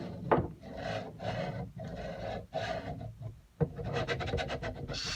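Sticking linear bearings on a Prusa MK2.5 3D printer, heard as close grinding, rubbing scrapes in uneven repeated strokes with brief pauses between passes, moderately loud with no talking.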